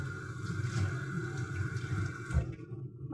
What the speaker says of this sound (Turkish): Kaşığı bir yıkayayım.